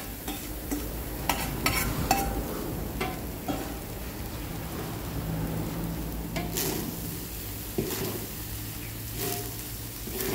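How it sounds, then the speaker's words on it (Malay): Egg and shrimp stir-fry in a hot pan for kampung-style bihun goreng, a steady sizzle under scraping and clanking of a spatula, with a few sharper knocks against the pan. "Lepas tu kita buat telur dengan udang kita goreng ni."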